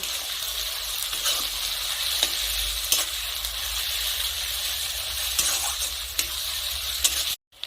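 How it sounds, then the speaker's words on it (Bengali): Ginger-garlic paste frying with onions in a pan for a desi chicken curry, a steady close sizzle broken by scraping stir strokes, continuous and fairly loud, ending abruptly. "আদা ও রসুন ভাজা পেঁয়াজের সাথে নেড়ে চেড়ে ভালো করে মিশিয়ে আরও আমি 4 মিনিটের মতো কষে নেব"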